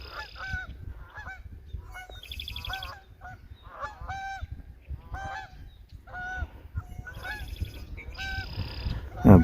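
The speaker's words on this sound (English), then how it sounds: "Oh, we got geese right here in the field." Geese honk repeatedly in a spring field, with loud, close, nasal calls in an irregular series over soft outdoor background noise and a brief rustle at the end.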